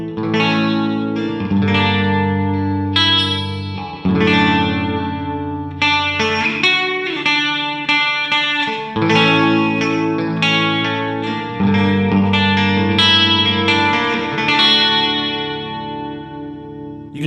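An instrument played through an EarthQuaker Devices Ledges reverb pedal in room mode, with the mix high, length about three-quarters and damping low, rings out in sustained chords and notes wrapped in a soft, subtle room ambience.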